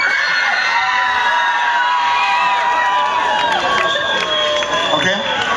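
A concert audience at a gig in Bistrita, 2010, screams and cheers loudly and continuously, a dense wall of shouts and whoops.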